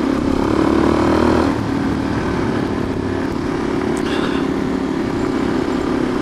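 Motorcycles ride on a winding road in Phantom Canyon, their engines making a continuous close drone mixed with rushing wind noise.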